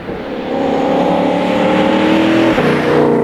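A Ford Mustang GTD road car on a drive gives a loud, close, sustained engine drone that builds after the first half-second and holds with a slight shift in pitch near the end, with no voices.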